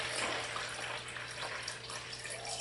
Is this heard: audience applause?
no